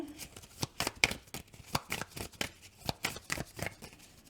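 Tarot cards being shuffled and handled up close: a quiet run of soft, rapid riffling flicks and slides at an uneven rhythm, with no speech.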